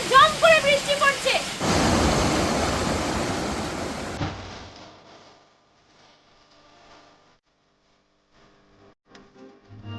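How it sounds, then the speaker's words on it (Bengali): Heavy monsoon rain pours at Jhargram near Hudhuda waterfall, a dense roaring wash that follows a brief spoken voice, runs for a couple of seconds and then cuts away to near silence. "আর ঝমঝম করে বৃষ্টি পড়ছে"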